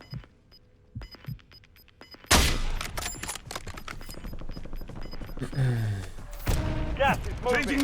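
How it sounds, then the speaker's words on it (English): Video game gunfire at an enemy in a helicopter: after a quiet start with faint beeps and thumps, loud rapid bursts of automatic fire erupt and continue densely and close up to the end. "Let me just shoot this guy out of the heli real quick."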